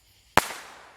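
A single close firework bursts with one sharp, loud crack during a Fourth of July backyard display, followed by a brief fading rumble.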